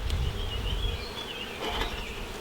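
Honey bees hum and buzz loudly around an opened, smoked hive, a dense continuous drone with individual bees whining close past.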